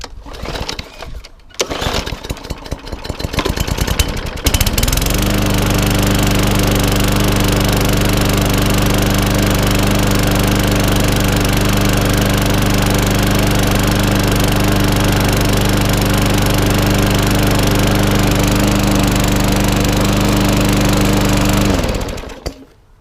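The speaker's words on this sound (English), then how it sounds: "And just fire it up. Hopefully she'll start." A Briggs and Stratton 500e lawnmower engine is pulled over with a few rough cranking bursts, then catches and runs at a steady loud, even idle for most of the clip before cutting off at the end.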